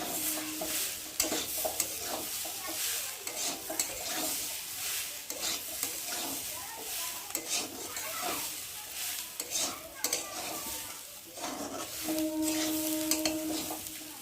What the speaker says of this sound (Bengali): এই যে ভেজে রাখা আলুগুলোকে দিয়ে দেবো। একটু ভালো করে নেড়ে চেড়ে নেব।